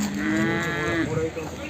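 A heavy Murrah buffalo at a buffalo market gives a long, loud, low moo, drawn out for over a second with a rough, resonant tone.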